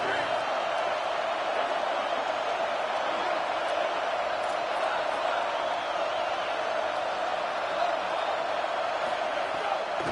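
Stadium crowd in a Madden football video game roars as a steady, dense wall of noise, loud and unbroken throughout.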